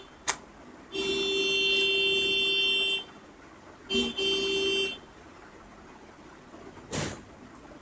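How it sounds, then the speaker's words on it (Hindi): Car horn sounding outside, a long steady honk followed by a shorter one and a final brief toot, clear against a quiet room. "ये कोई आया है हॉर्न बजा रहा है"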